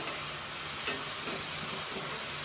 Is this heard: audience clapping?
no